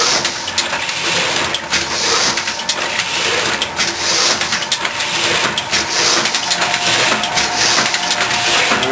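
A letterpress printing press runs with glue spreading across its rollers, making a loud, continuous mechanical whir and rumble with fine repetitive clatter. The sound stays steady, close and unbroken for the whole stretch.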